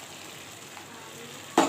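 Potato dropped into ridge gourd cooking down in a pan for a Bengali posto dish: a steady soft sizzle, then a sudden louder, hissing burst of frying near the end.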